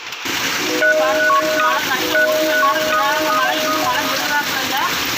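Heavy rain falls in a continuous, close hiss that stays steady throughout, with faint tonal voice-like sounds weaving underneath.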